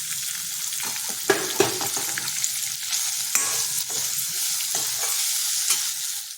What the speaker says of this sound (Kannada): ಇದಕ್ಕೆ ಇವಾಗ ನಾವು ಹೆಚ್ಕೊಂಡಿರೋ ಪನ್ನೀರನ್ನ ಹಾಕ್ಕೊಂಡು ಸ್ವಲ್ಪ ಹುರ್ಕೊಳ್ಳೋಣ.